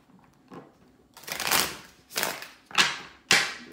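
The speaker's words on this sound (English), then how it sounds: "I'm just gonna do a bit of a shuffle here." A deck of tarot cards is shuffled by hand in four quick riffling bursts, each a crisp papery flutter close to the microphone, separated by brief pauses with no talking.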